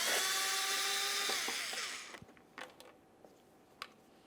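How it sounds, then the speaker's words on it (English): A T20 Torx bit drives out a lower screw near the rear parking assist sensor of a 2008–2017 Buick Enclave: a close whirring whine lasts about two seconds, then winds down into a few sharp clicks and small creaks in quiet. "We can remove this lower screw."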